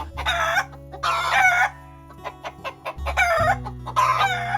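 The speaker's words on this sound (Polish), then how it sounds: "Nawet cielęta zainteresowały się tym wrzaskiem, który urządziły kury." Hens squawk and cluck loudly in agitated bursts, with a rooster-like crow among them and short sharp calls between, close by with a low hum underneath.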